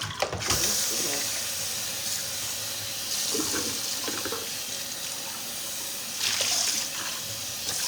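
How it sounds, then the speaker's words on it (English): Running water from a kitchen tap splashes steadily while fresh produce is washed in a sink, with short bursts of stronger flow, a few soft handling knocks, and a brief voice in the background. "meanwhile, wash and dry the produce"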